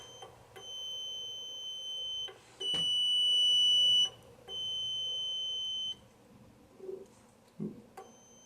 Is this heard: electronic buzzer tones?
yes